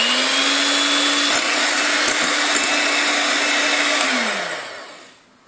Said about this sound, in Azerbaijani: Qaymağı mikserlə 3-4 dəqiqə qarışdırıram.